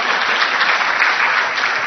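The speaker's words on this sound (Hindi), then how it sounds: "अब आप ताली बजा सकते हो अपने लिए।" Conference audience clapping for themselves at a mind-body medicine talk, a loud, dense, continuous burst of many hands applauding up close, with no voices heard.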